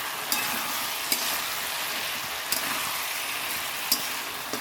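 Shrimp frying in a pan, a steady loud sizzle with occasional sharp clinks of a utensil against the pan at irregular intervals.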